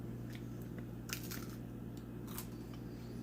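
Faint crunches of biting into a crispy homemade keto chip, several short crackly bursts over a steady low hum, quiet and recorded from a distance.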